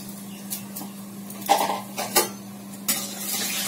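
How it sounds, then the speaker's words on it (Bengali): Cumin seeds tempering in hot oil in a wok, a soft crackle and sizzle with several metallic clinks of a utensil against the pan, close by over a steady low hum and with no speech. "জিরা ফোড়ন দিয়ে দিলাম একটু"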